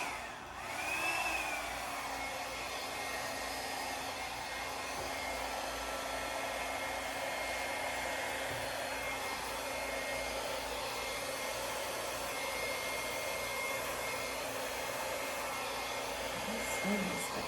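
Hair dryer blowing on high heat, a constant loud whooshing hum with a steady tone that runs unbroken from start to finish.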